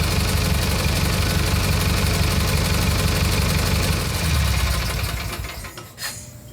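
A Kohler Magnum engine on a Simplicity Sunstar garden tractor runs at a steady idle, loud and close, with a low pulsing throb that fades toward the end.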